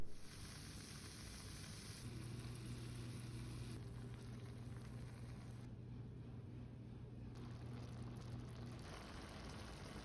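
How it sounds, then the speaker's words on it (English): Frontera fajita chicken kit with peppers and sauce cooks in a saucepan on a stovetop, giving a faint, steady sizzle and hiss over a low hum that continues evenly for ten seconds. "Let's put this all in the saucepan on the stovetop."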